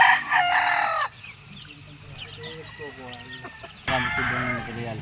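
A rooster crows loudly at a backyard gamefowl breeder's yard in Lipa, a long crow at the start and another near the end, with softer clucking between and someone talking over it.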